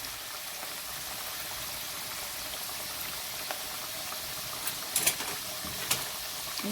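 Potatoes fry in spiced oil with a steady, even sizzle and occasional louder pops and crackles near the end, heard close with no talking.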